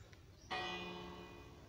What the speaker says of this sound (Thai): โอ้ตรงนี้มีระฆังด้วยฮะ